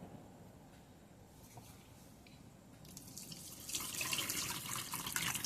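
Soaked wheat is worked by hand in water in a vessel to make kurdaya, with quiet sloshing and trickling that grows louder and splashier in the latter half.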